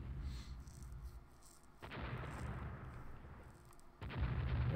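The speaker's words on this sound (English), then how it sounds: "The firing has begun. Battleships are now involved." Heavy battleship naval guns firing in the Rule the Waves strategy game, with a low rumbling background and two booming salvos, one midway and a louder one near the end.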